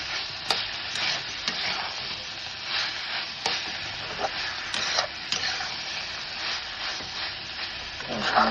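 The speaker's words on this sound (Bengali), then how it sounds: "এবার নাড়ছি, কষাই একটু" Spinach curry with lentil dumplings and split green chillies stirred and fried in a pan, a steady loud sizzle with repeated scraping ticks of the spoon throughout, no talk.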